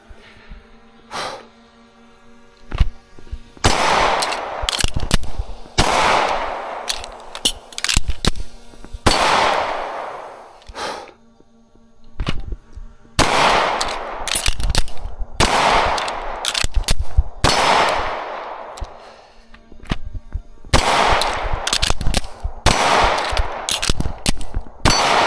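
Ported Langdon Tactical Beretta 92FS Elite pistol fired at an outdoor range at 7 yards, loud sharp shots in fast strings separated by pauses for magazine changes, with metallic clinks between volleys.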